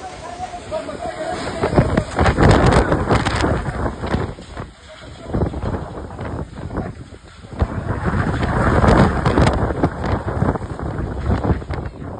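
Strong storm wind sweeps through Pen in Raigad as rain approaches, roaring steadily and buffeting the microphone in loud, surging gusts that swell and ease over about twelve seconds.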